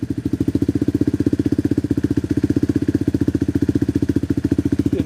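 A cold Tao Tao Coleman 125 ATV engine fitted with a new silencer idles close by with a quick, steady putter, each exhaust pulse evenly spaced and loud, with no voices over it.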